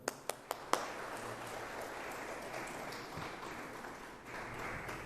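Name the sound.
applause for a speaker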